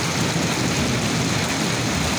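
Heavy rain pours in Apatzingán, Michoacán, a dense continuous roar of rain on surfaces with low thunder rumbling underneath, loud and steady with no speech.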